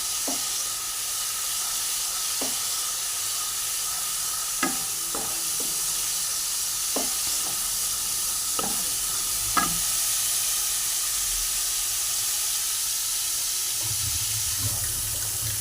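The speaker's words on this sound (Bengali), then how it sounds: "নাড়িয়ে ভালো করে কষাতে হবে। যতক্ষণ না তেল ছাড়ছে ততক্ষণ কষাতেই" Spices fry in oil in a pan for Bengali vegetarian aloo fulkopi, giving a constant soft sizzle broken by repeated scraping stirs of a spoon, close and without talk.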